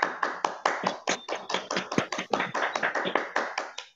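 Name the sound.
applause from unmuted Zoom participants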